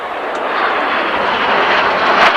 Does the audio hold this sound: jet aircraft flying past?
yes